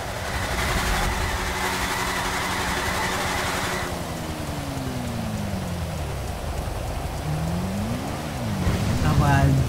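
Custom motorcycle burnout in GTA 5, a loud engine roar with harmonics that drop and rise again as revs change, over a steady hissing noise, with no talk.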